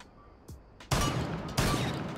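Two heavy shotgun blasts from Castle's weapon in Rainbow Six Siege, close and loud, spaced well under a second apart, each with a short ringing tail, preceded by faint movement clicks.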